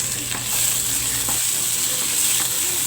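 Sliced tomatoes sauté in hot oil with browned aromatics for a chicken nilaga-style dish, producing a steady loud sizzle with intermittent stirring scrapes throughout.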